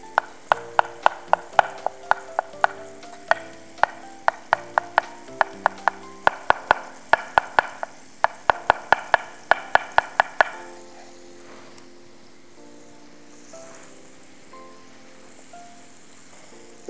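A knife finely chops fresh mushrooms on a board, giving quick, sharp, evenly spaced strikes that stop partway through, with soft music playing underneath.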